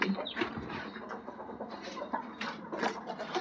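Hens and chickens on a farm cluck and chirp in a busy, steady stream of bird calls, with a faint human voice mixed in.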